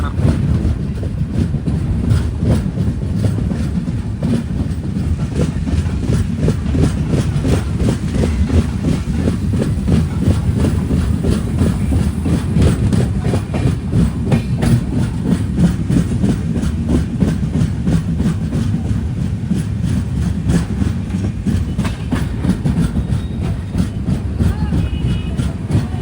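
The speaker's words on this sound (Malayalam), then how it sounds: "ട്രെയിൻ ഇപ്പോൾ രാജമന്ത്രി റെയിൽവേ സ്റ്റേഷനിലേക്ക് ഇതാ എത്തുകയാണ്" Tatanagar Express on a journey from Ernakulam to Jamshedpur, wheels clattering steadily over the rails in a dense, continuous rhythmic rumble with wind noise throughout, heard from aboard the train.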